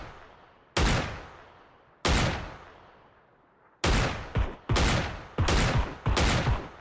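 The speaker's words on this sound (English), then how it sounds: "Oh, someone else shooting him." Gunfire in the battle-royale game PUBG, a series of loud, sharp shots with long echoing tails, first widely spaced, then coming in a quicker cluster of about six reports, with no voices.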